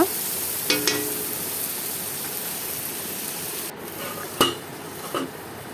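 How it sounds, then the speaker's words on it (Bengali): Potatoes cook in a pan over steady background sizzle, with a few brief metallic scrapes and clinks of stirring scattered through; no voices. "দু একবার নাড়াচাড়া করে আমি আলুটার উপরে ঢাকনা দিয়ে রেখে দেব আলুটা সিদ্ধ হবার জন্য।"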